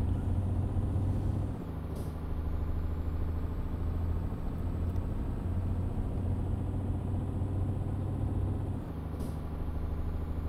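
A truck driving at full throttle in Euro Truck Simulator 2, a steady low engine drone held for several seconds, with a brief hiss and a dip in tone about every seven seconds as gears shift.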